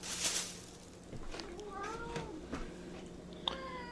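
A house cat meows several times in a kitchen during taco preparation, drawn-out rising and falling cries close by over quiet room noise and rustling of groceries.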